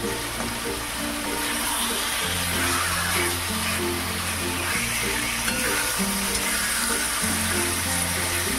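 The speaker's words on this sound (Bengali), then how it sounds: "মাছগুলোকেও মশলার সাথে প্রায় 1 মিনিটের মতন একটু হালকা হাতে নাড়াচাড়া করবে" Katla fish frying in a masala paste and being stirred by hand, with a steady sizzle running throughout and no talking.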